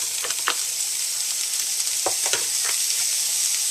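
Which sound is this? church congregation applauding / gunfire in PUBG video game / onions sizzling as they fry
onions sizzling as they fry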